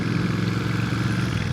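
A Triumph Thruxton R motorcycle engine fitted with race headers and a free-flowing exhaust runs with a continuous loud, gritty roar, steady throughout the short stretch with no talk.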